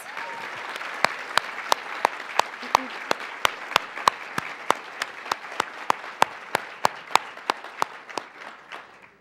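Applause from a luncheon audience honoring job training program graduates, with sparse individual claps ringing out in a steady rhythm over a continuous patter of hands, sustained throughout and gradually thinning.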